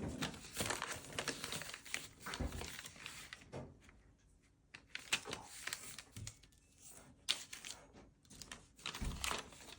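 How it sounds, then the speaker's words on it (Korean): Paper being folded and creased for origami of a Blade mini car, with crinkling rustles, sharp creasing strokes and quiet gaps, close and soft, no talking. "그 다음에 반대쪽으로 네모를 접어주세요."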